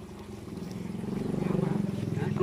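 A wooden cargo boat carrying melaleuca timber chugs along a river in Dong Thap, its low engine throb holding steady and swelling slightly louder, with voices faintly present.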